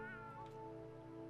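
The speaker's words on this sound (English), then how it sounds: "And that's a cat somewhere." A single faint, drawn-out cat meow from the video game South Park: The Fractured But Whole, with a steady tonal background and no talking.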